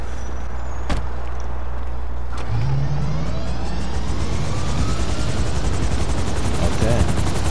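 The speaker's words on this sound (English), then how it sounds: "Trust me, there's a helicopter though." A video game helicopter drones with a loud, steady low rotor throb and engine roar throughout, with a couple of sharp gunshot-like cracks early on and a brief rising whine.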